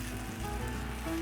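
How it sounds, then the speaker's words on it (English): Steady, dense sizzling of pasta in a very hot wok over a charcoal fire, a continuous close hiss with no talk. "That wok, y'all, it's super hot, as you can hear."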